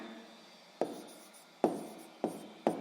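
A pen writes a numerical answer into a school notebook during a sixth-grade maths exercise: four short, scratchy strokes at an uneven pace, close and clear, with no talking.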